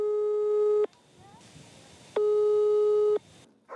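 A telephone busy tone from an unanswered call to a mother: two long, steady electronic beeps separated by a gap of faint background noise, fairly loud and clear.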